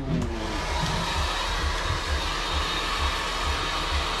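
A hair dryer blows steadily on a man's freshly shampooed hair at a Japanese salon in Akihabara, a close, constant whooshing roar that holds for the whole clip with a faint rhythmic pulsing underneath.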